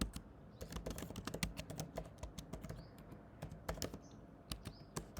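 Rapid, irregular clicking of computer keyboard keys while Kotlin code is written, close and crisp with short pauses between bursts and no voices.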